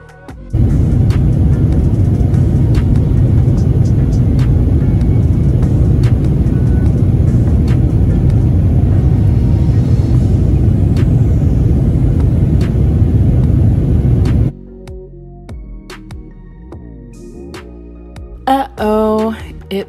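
Steady loud jet engine drone inside an airplane cabin on a night flight, a constant broad rumble lasting about fourteen seconds before cutting to quieter cabin sounds and brief chimes.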